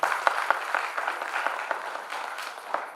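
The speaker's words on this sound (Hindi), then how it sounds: "तो एक बार फिर से तालियां बनती।" An audience applauds at a science week program, a fairly faint, sustained patter of many hands clapping with a few sharper individual claps standing out.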